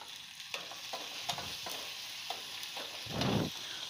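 Tomatoes and turmeric fry in a dal tadka, a steady close sizzle broken by scraping stirs and a louder burst of frying near the end.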